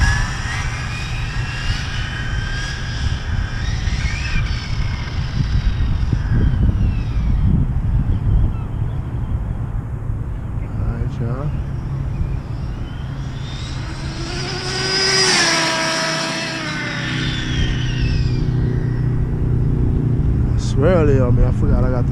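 Arrma Infraction RC car on a 6S battery making a speed run, a steady high whine and motor rush that builds and sweeps past around the middle, with wind noise throughout.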